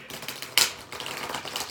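A deck of tarot cards is shuffled close by, giving a short, quick burst of papery flicks and clicks with one sharper snap partway through.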